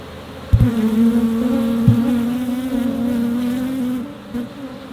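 Honey bees buzz steadily in an open, recently split hive, a close, continuous drone with a sustained hum and a few sharp knocks near the start.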